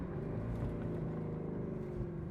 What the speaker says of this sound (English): I just like listening to the exhaust.